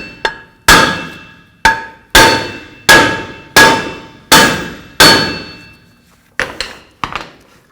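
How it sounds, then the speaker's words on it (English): Loud metallic clangs from a hammer striking the brake rotor of a Ram 1500 pickup, about eight evenly spaced ringing blows followed by a few lighter, quicker taps. "Now take a hammer and just tap on the rotor in those locations."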